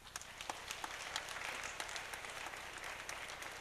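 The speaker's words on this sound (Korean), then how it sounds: "두 큰 박수 부탁드리겠습니다" A congregation at a church youth worship service applauds with steady, dense clapping that fills the whole moment, with no voices over it.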